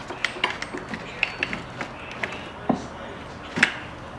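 Torx T30 battery box bolts on a KTM 890 ADV R being loosened in a garage: a series of light, close ratcheting clicks and metallic taps at an irregular pace, with some quieter sparse handling noise.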